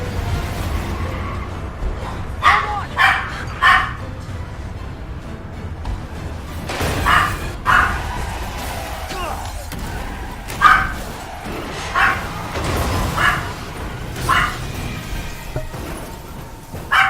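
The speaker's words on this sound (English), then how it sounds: "Sorry, my dog was barking there." A pet dog barks repeatedly indoors, loud and close, with bursts of barks and higher yips recurring throughout at an uneven rhythm.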